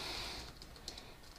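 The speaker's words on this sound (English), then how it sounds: "See my bad typing." Quick, quiet keystrokes on a computer keyboard patter unevenly through a short burst of typing, with one slightly sharper tap near the middle.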